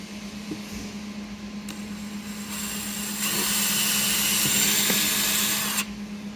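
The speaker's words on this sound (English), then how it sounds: "We're going to drill a pilot hole here." A power drill whirs steadily while drilling a pilot hole in a plastic tank, its pitch rising as it bites in for a few seconds, then stops, with a constant hum underneath.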